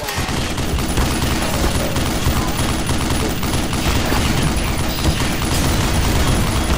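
Dense, sustained automatic turret gunfire in Black Mesa, a steady rattle of rapid shots filling the whole stretch with no pause, loud and close.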